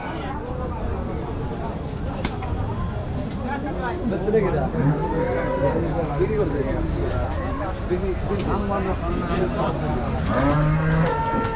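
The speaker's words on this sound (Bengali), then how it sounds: "এই হাটে প্রচুর পরিমাণ মহিষ ওঠায়" Water buffalo moo repeatedly amid a busy buffalo market, with crowd chatter and voices running steadily underneath the low, drawn-out calls.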